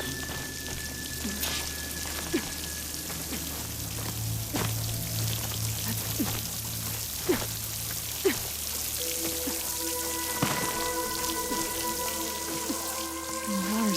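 Water spills and trickles steadily into a rocky wall beside a waterfall in the video game Horizon Forbidden West, a continuous splashing wash with scattered drips and faint tones over it, no speech.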